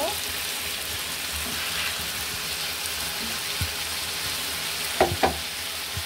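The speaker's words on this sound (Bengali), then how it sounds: "এখন ফুলকপিগুলো দিয়ে দিব।" Cauliflower pieces frying and being stirred into chicken curry in a pan, a steady dense sizzle throughout with a few sharp clatters of the spoon near the end, close up and with no talk.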